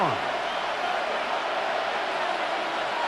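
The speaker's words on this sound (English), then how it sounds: "Crowd noise rises." Crowd roar from a Madden 26 football video game, a Bears vs Packers wild card playoff, swelling as a steady, dense wash of stadium noise with no break.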